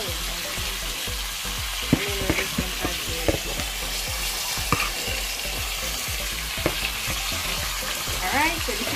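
Pieces of pork tumble into a hot pot for stew and fry in a steady, close sizzle, with scattered clicks and soft thuds of meat landing and being stirred, no voices.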